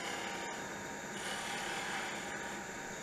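Woodturning gouge cutting downhill on a slim line pen blank spinning on a lathe, a steady continuous scraping rasp that runs close and loud throughout with no talk.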